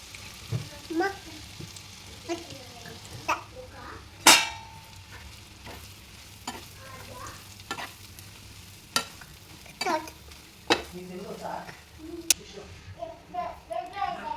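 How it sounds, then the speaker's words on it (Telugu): Sliced bitter gourd fries in a pan with chilli powder, a continuous low sizzle with scattered spoon scrapes and a few metallic clangs, close by, while a voice speaks at times over the cooking. "ఇప్పుడు మిగిలిన కారం కూడా పైనుంచి వేసి ఒక 5-10 నిమిషాలు వేగనిద్దాం"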